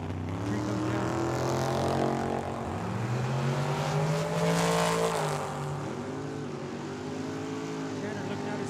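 A dragster races down the strip at Tucson Dragway, a loud, continuous engine roar whose pitch sweeps up and down for several seconds before easing slightly.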